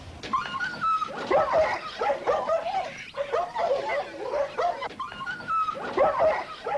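Young gun dogs in training at a royal kennel bark, yip and whimper in repeated overlapping bursts, fairly close and continuous throughout.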